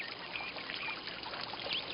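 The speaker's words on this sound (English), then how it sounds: "I hear the water." Steady trickling water runs continuously at moderate volume, with faint chirps of birds high above the flow.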